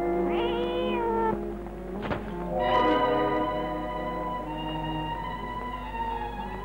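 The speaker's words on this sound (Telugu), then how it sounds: "కథలో పిల్లి వచ్చింది, గ్లాస్ పడదోసింది." A cat meows several times close by, drawn-out tonal cries with a sharp knock in the middle, as of a glass of water being knocked over.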